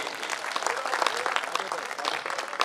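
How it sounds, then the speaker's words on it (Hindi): Audience applause at a Hindi poetry recital of heroic verse, a dense wash of clapping from a crowd that stays steady and fairly loud throughout, with no talk over it. "सबका मन हो तो एक बार जोरदार तालियां"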